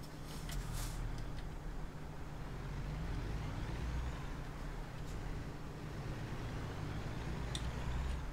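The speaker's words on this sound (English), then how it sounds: "Oh wow, driving the truck." Simulated heavy truck in American Truck Simulator, a faint steady engine drone with a low hum, broken by a few short hissing bursts like air brakes releasing.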